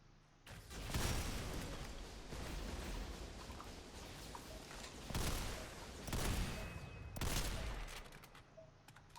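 Rifle bursts in the shooter game SYNTHETIK 2, a steady stream of loud close gunfire with heavier volleys clustering near the middle and end, no voices over it.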